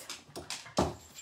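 A dog whimpers indoors in a few short, high whining bursts, the last one louder and nearer, with quiet room tone between them and no talking.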